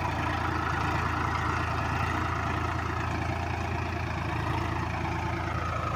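A Sonalika Sikander DI 35 tractor idles steadily, a continuous low diesel throb held at an even, loud level throughout, with no talk over it.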